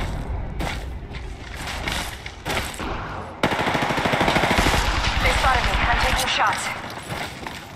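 Apex Legends video game gunfire: rapid automatic bursts of shots, loud and close, broken by short pauses and then a sustained stretch of firing, with game voice callouts mixed in.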